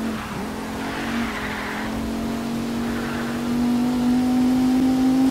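Engine drone of a car in Need for Speed Rivals, steady and loud with a high sustained tone as it drives, tyres squealing and skidding partway through, rising slightly toward the end.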